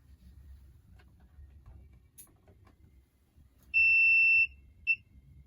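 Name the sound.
buzzer of thesis test device sounding when switched on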